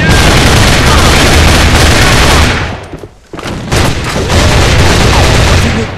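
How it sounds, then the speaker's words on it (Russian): Heavy gunfire and booming blasts from a grenade explosion fill a battle in the video game A.V.A, loud and dense, with a short lull around three seconds before the firing picks up again. "Бросаю гранату."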